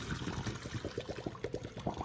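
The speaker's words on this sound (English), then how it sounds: "Okay, our radishes are ready, so we're going to drain them." Cooking water drains off a pot of boiled radishes, a steady splashing pour with bubbling gurgles, close and continuous throughout.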